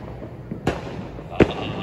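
Fireworks bursting outdoors, two sharp booms about a second apart over a steady background, the second louder and closer.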